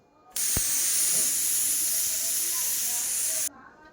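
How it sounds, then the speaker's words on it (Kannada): A pressure cooker whistle releases steam in one loud, steady hiss lasting about three seconds, starting and stopping abruptly, while chicken and egg gravy cooks inside. "ಕುಕ್ಕರ್ ಮುಚ್ಚಳ ಹಾಕಿ ವಿಷಲ್ ಹೊಡ್ಸಿದ್ರೆ"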